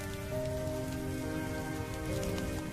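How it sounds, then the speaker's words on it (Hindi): Heavy rain pours steadily onto a road, a dense, close and continuous hiss of drops hitting the surface with no voices. "लखन का परिवार तेज बारिश में बीच सड़क पर भीग रहा था"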